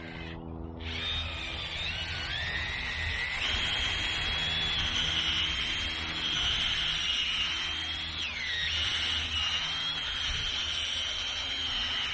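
A power auger bores a deep planting hole in garden soil beside a tomato plant, its motor whining steadily and loudly without pause, the pitch shifting slightly as the bit digs in and eases off.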